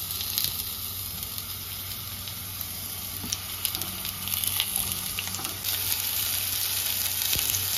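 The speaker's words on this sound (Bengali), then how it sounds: "কড়াইতে সাদা তেল দিয়ে দিয়েছি, তেলটা গরম হয়ে গেছে। এবার আমি পটলগুলোকে ভেজে নেব।" Pointed gourd (potol) frying in hot white oil in a wok, giving a steady, close sizzle and hiss that grows slightly busier toward the end, with no voices.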